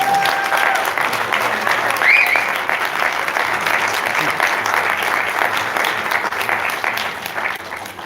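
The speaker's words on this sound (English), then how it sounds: "so if you want to give really forceful applause right now" Sustained, dense applause from a seated audience at the close of a political panel discussion hosted by a ward Democratic club, steady and loud throughout with a few faint whistles near the start.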